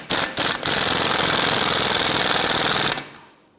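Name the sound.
impact gun running on strut assembly nut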